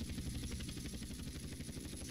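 A helicopter in GTA San Andreas, a faint steady rhythmic rotor chop with a thin high whine, even and unbroken throughout.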